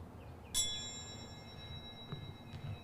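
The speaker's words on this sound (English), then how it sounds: "Bells tolling on repeat, echoing throughout." A single bell ding rings out at a submarine memorial ceremony, a sharp metallic strike that sustains as a long, echoing tone before fading, with faint softer chimes and low background ambience behind it.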